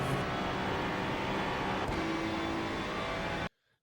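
Ferrari 296 GT3 race car engine in the iRacing sim held at full throttle, a loud, continuous high-revving drone with a brief dip in the middle, then cutting off abruptly to silence.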